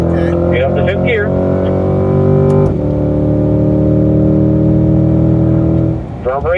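A C8 Corvette engine revs hard under acceleration, its loud steady drone dropping briefly as it shifts up to 5th gear and then pulling on. A voice gives coaching over the engine.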